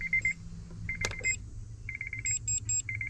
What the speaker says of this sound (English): Triple beeps. That means take the key out.